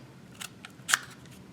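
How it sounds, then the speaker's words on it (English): Scissors snip into a cardboard paper roll for a crafted Among Us crewmate figure, giving a few quick, crisp cuts close up, the last one loudest, with no talking. "So just take your scissors and make little cuts"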